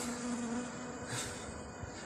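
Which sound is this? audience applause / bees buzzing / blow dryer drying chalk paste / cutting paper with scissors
bees buzzing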